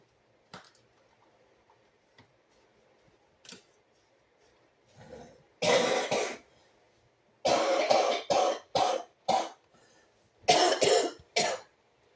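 A series of harsh coughs, a few isolated at first and then in bursts of two to four, loud and close with quiet gaps between.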